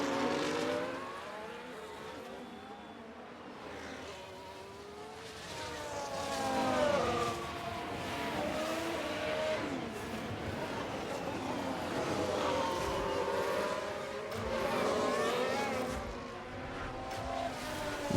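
Several race cars running close together in a video game pack, engines whining in overlapping rising and falling tones, steady and fairly loud with no talk.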